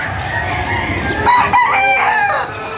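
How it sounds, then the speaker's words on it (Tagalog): A rooster crows loudly nearby amid chickens clucking on a farm in Montalban, Rizal, Philippines, a farmyard chorus with one prominent drawn-out crow in the middle. "Tapos mga manok nila oh."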